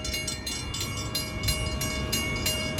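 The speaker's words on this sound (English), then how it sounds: "And here it comes. Here's the train." A train rolls past an old railroad crossing, a steady loud rumble of wheels with rhythmic clacking over the joints and a faint horn tone running through, close by and continuous.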